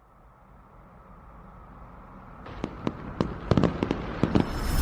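Fireworks and firecrackers bursting outdoors, a string of sharp cracks and pops in an irregular cluster that grows denser and louder over a rising background rumble.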